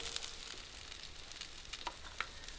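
An egg fries on a griddle with a faint, steady sizzle and a few small pops, quiet and without voices.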